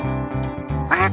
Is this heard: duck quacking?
yes